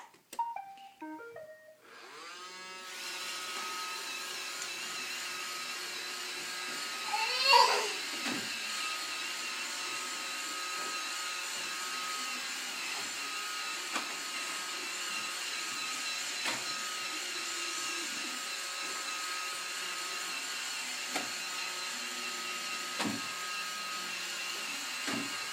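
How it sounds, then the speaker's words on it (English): A Roomba robot vacuum cleaner starts up with a few beeps, then runs as a steady whirring motor hum with occasional bumps and louder swells, close by. "you wanna watch Roomba?"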